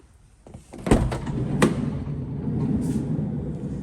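The side loading sliding door of a Volkswagen Transporter T6.1 Highline Kombi van, a loud close rumbling slide with sharp thuds as the door moves and latches, followed by a low rolling noise.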